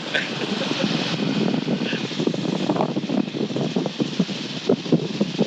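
A light airplane climbing in flight in the traffic pattern, its engine a steady, loud broadband drone with wind rush throughout, heard from inside the cabin.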